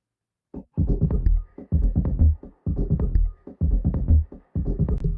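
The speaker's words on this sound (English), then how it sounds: "The toms are going to sound like this." Electronic drum toms for minimal techno, played dry without effects, hit in a repeating pattern of short resonant bursts, deep and boomy, played alone and fairly loud with brief gaps between phrases.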